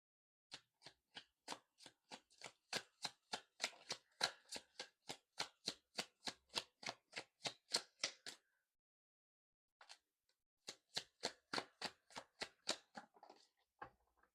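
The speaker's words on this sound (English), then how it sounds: "Now I'm going to pull some love cards" Tarot love cards are shuffled by hand, a rapid regular series of crisp papery slaps, pausing briefly and then resuming, close and clear with no talk.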